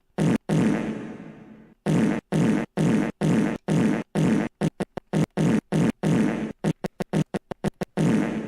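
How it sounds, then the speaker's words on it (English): Fart sound effects play in a rapid string of loud, abrupt bursts, some long and rasping, others short and clipped, coming in quick irregular clusters. "here's some fart sounds."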